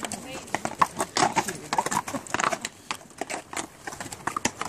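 Horse hooves clop in an uneven walking rhythm at moderate distance on a mountain hiking trail, with faint voices and rustling mixed in.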